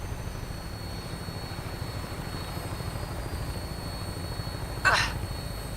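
Vertibird aircraft lifting off in the video game Fallout 4, a low, pulsing rotor rumble throughout with a brief, sharp burst near the end, no talk.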